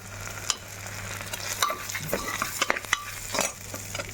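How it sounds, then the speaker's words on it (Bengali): Masoor lentils stirred into fried eggplant in a frying pan, with a steady sizzle under repeated scraping and clinking strokes of the spoon against the pan. "যে মুসুর ডাল বাটি করে মেপে রেখেছিলাম এই ডালটা দিয়ে দিলাম"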